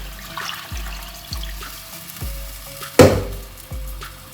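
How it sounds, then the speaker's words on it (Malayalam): Water rinsed from a mixer jar is poured into a pan of fish curry; a brief splash stands out among soft, rhythmic knocks, close and moderately quiet, with no talking. "മിക്സിയുടെ ജാറ് കഴിയ വെള്ളമില്ലേ അത് കുറച്ച് ഒഴിച്ചു കൊടുക്കാം."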